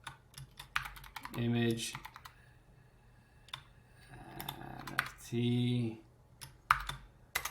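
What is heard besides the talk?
typing on a computer keyboard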